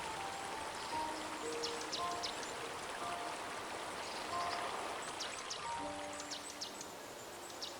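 The Chulyshman river in Siberia, flowing out of the Altai Mountains, gives a steady, moderately distant rushing wash of water, with faint high bird chirps over it.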